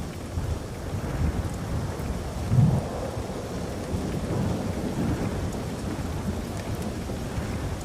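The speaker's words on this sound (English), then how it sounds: "you hear that rain sound?" Steady rain in Helldivers 2 hisses and patters throughout, with low thunder rumbling underneath and a brief stronger rumble partway through.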